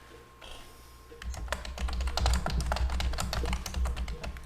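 Rapid, steady typing on a computer keyboard, close and clear, starting after a quieter moment and continuing as a dense run of keystrokes.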